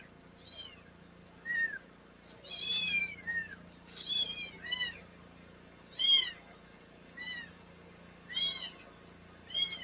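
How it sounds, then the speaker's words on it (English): A kitten meows repeatedly in short, high, rising-and-falling calls, some close together and others spaced apart, loud and near over a low steady background hum, with no talking. "And the kitten alarm is going off again."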